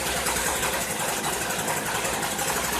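A Stihl FS string trimmer engine idles roughly and a little slow after a ZAMA carburetor fix, a loud continuous close buzzing drone with no talk.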